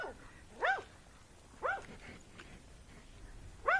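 Dogs barking in a few short bursts, spaced about a second apart, at moderate distance with light background noise, heard while riding a Missouri Fox Trotter horse.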